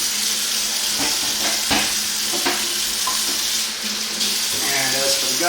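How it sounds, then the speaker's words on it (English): Tap water runs steadily over a pheasant being rinsed in a kitchen sink, a close, continuous splashing hiss with small shifts as the bird is turned under the stream. "Rinse it out."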